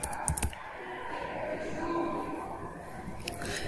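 Quick clattering keystrokes on a computer keyboard while Python code is entered, clustered in short bursts near the start and end with a steady hum between.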